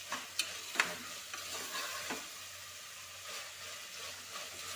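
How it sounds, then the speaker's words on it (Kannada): Vegetables being stirred and fried for cashew poppy seed pulao, a steady close sizzle broken by a few sharp scrapes and clinks of the spoon against the pan early on, with no talking. "ಈಗ ಇದು ಹಾಕಿದ್ರೆ ಸ್ವಲ್ಪ ಎಲ್ಲ ಹಸಿ ವಾಸನೆ ಹೋಗೋವರೆಗೂ ಹುರ್ಕೊಂಡ್ರೆ ಸಾಕು"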